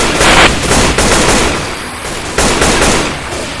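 Loud, close bursts of rapid automatic gunfire from the zombie shooter Left 4 Dead 2, sustained rattling volleys with a brief pause before another burst.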